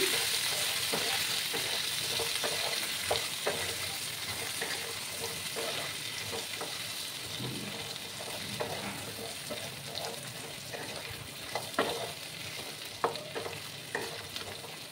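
Raw banana pieces coated in turmeric powder sizzle in hot oil as a spatula keeps stirring them, with repeated scrapes and knocks over a continuous close frying hiss; no one speaks.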